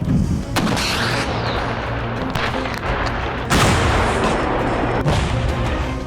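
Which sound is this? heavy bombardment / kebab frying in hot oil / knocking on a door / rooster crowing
heavy bombardment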